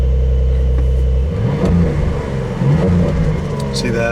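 A 2023 Porsche 911 Targa 4 GTS engine revved while parked, a loud steady idle rising into repeated revs that cut off at the limiter, with someone speaking briefly over it.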